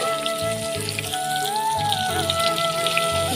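Sliced pointed gourd (potol) frying in a pan, a steady crackling sizzle like rain on a surface, close and even throughout under a faint sustained background tone.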